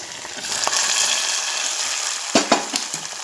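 Hot oil tempering with onion and curry leaves sizzles steadily, then bursts into sharper crackles as it is poured into a chickpea and pea sambar, with a light clink of utensils.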